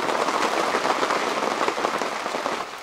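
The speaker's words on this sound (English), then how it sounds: "Some serious rain today." Heavy, constant rain drums on a military arctic tent during winter woodland camping, a dense, steady hiss of close pattering drops with no talking.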